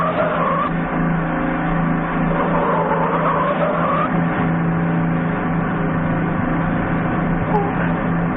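A car speeds through town running red lights, its engine roaring steadily with tires squealing, a loud continuous drone that never lets up across the whole stretch.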